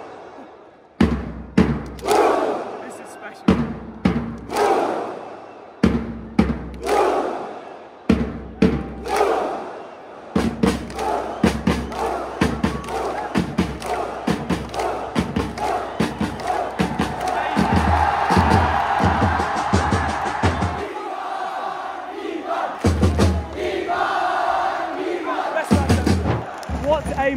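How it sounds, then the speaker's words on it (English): Kerala Blasters fans pack a stadium for the Viking clap: massive unison claps with a roared 'huh' come slowly and evenly spaced, then speed up into a rapid run ending in cheering, with someone talking over it. "Welcome to the Indian Viking clap."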